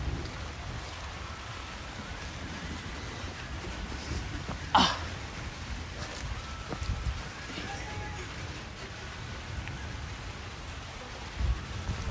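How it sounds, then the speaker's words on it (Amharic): Steady rain hisses faintly in the background, with a single sharp crack partway through and a few soft bumps later on. "ኧረ ዝናብ"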